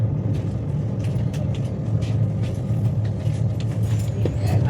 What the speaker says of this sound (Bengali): ট্রেন আলুবাড়ি রোড জংশন ছেড়ে এবার বেরিয়ে যাচ্ছে